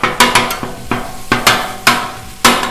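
A metal spatula chops a chorizo breakfast scramble on a Blackstone griddle, six or seven crisp clacks against the flat-top at an uneven pace, close and loud, with faint sizzle between strikes.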